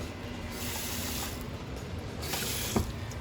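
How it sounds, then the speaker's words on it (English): Hot water pours with a steady, soft splashing hiss over canning jar lids in a kitchen, fairly quiet and continuous for about three seconds, with a faint click near the end. "So we're just going to put some hot water in there."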